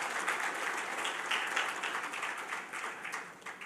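A crowd at an awards of excellence ceremony claps with renewed energy, producing a full, lively wave of applause with slight swells that continues for several seconds before starting to ease.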